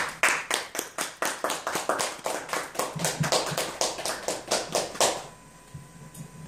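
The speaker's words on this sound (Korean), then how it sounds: "여러분 큰 박수로 환영해 주십시오" An audience at a humanities academy lecture claps in unison to welcome a guest author, a loud, rhythmic series of sharp synchronized claps that stops abruptly after about five seconds, leaving a quiet room.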